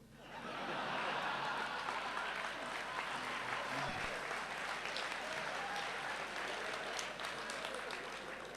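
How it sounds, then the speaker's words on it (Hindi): Thin, scattered clapping from a few people at a mushaira and kavi sammelan poetry recital, faint and somewhat distant, carrying on for several seconds with a touch of chuckling in the crowd. "दो तीन लोग ताली बजा रहे हैं"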